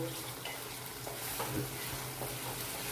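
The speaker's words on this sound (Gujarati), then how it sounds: "અને થોડો કલર ચેન્જ થાય ત્યાં સુધી આપણે શેકવાની છે।" Green turmeric roasts in a pan on a gas stove over a slow to medium flame, giving a soft, steady sizzle with light stirring scrapes at intervals, fairly quiet and close.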